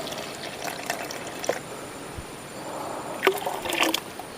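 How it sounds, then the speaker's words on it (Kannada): About 100 ml of liquid potash mobilizing bacteria is poured for use on a farm, a faint trickle and splash over quiet background hiss, with a few soft knocks. "ಪೊಟ್ಯಾಶ್ ಮೊಬಿಲೈಸಿಂಗ್ ಬ್ಯಾಕ್ಟೀರಿಯಾ ಇದನ್ನು ಕೂಡ ನೂರು ಎಮ್ ಎಲ್ ಅಷ್ಟು ಹಾಕ್ತೇನೆ"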